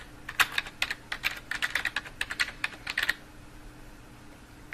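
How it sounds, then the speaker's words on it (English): A search query is typed on a computer keyboard, a close, quiet burst of about twenty quick key clicks over three seconds, then silence. "we can type in"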